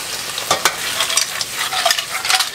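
Spaghettini is tossed and stirred in a hot vongole pan with clams and anchovy, giving a steady close sizzle broken by scraping, stirring clatters.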